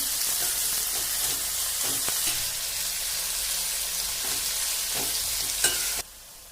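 A quarter kilo of bitter gourd sautéing in oil for a shallot and bitter gourd thokku, with a continuous loud sizzle and occasional scraping stirs and clinks of a utensil, ending abruptly.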